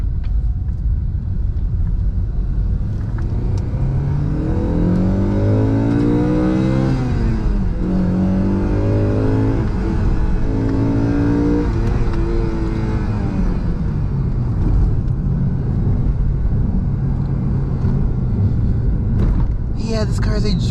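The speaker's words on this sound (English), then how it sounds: "this car is a joy to drive" A car drives and accelerates through town, its engine a steady low rumble that runs the whole way, with a voice or music rising over it in the middle.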